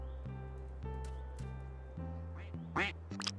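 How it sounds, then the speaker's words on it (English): Video game ducks quack repeatedly in a rhythmic series of short, clear calls over a steady background hum, close and distinct with no one talking. "And there's actually a lot of ducks in here."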